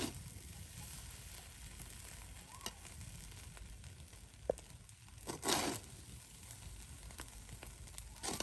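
Broken rice (khud) dry-frying in a pan over a low flame gives a soft, steady sizzle and faint crackle, with a few brief stir scrapes and taps standing out near the middle.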